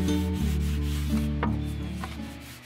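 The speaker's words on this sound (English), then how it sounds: "I'm using a very fine grit sanding block, sanding it down lightly, and then giving it a second coat." Fine-grit sanding block rubbed lightly over painted wooden furniture, a soft continuous scratchy stroking close by over a steady low background hum.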